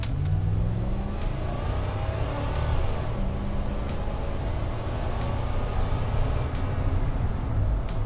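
A 1990 Chevrolet Silverado 1500 pickup pulls away from a rolling start, its engine droning loud and steady throughout with a deep low rumble and rising accelerating tone, up close and without talk.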